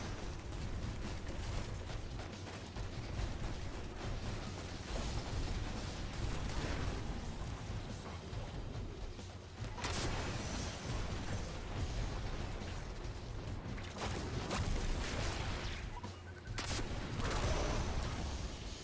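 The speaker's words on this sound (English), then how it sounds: "Did my rocket launcher do damage?" Rocket launcher fire and explosions in a sci-fi shooter video game, a continuous loud barrage of blasts and mechanical clatter with brief dips, no speech.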